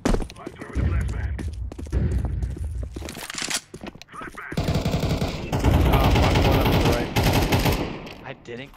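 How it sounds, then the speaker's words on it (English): Counter-Strike 2 match audio: bursts of rapid automatic gunfire and loud blasts from a flashbang and weapons fill the mix, with busy in-game noise and footsteps throughout. "I'm throwing the flashbang."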